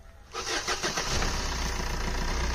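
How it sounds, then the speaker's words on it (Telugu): A car engine cranks and catches after a brief quiet moment, then settles into a loud, steady idle close by. "ఇంజిన్ స్టార్ట్ చేయాలండి"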